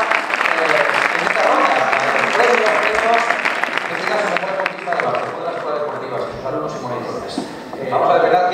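Theatre audience at a sports awards gala clapping in a loud, busy round of applause while a presenter's amplified voice talks over it.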